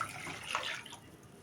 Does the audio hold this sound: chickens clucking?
no